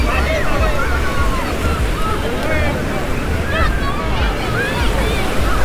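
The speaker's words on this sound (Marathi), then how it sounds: "समुद्राच्या लाटा पण भरपूर आहेत" Sea waves roll onto crowded Calangute Beach in Goa in a steady wash of surf, mixed with wind buffeting the microphone and a murmur of voices from the crowd.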